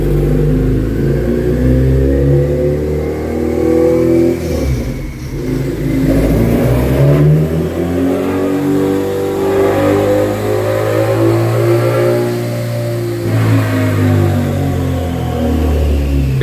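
Tuned K-series race car engine revving hard and loud during race-day prep, rising and falling through repeated throttle blips with a steady rumble between pulls, close by and with no talking.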